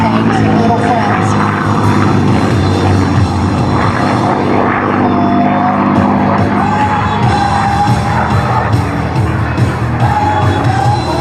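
A P-51 Mustang, "Crazy Horse," roars overhead at the 2011 Wings Over Wayne airshow, its propeller engine loud and continuous as it repositions for a barrel roll, with crowd noise and a public-address announcer talking throughout.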